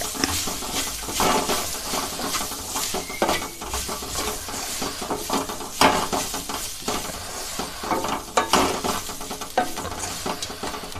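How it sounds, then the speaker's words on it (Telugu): Chicken curry with ginger and green chillies fries in a pan while a utensil stirs it in steady scraping strokes, with continuous sizzling and occasional clinks of metal against the pan. "ఇప్పుడు కలుపుకుందాం"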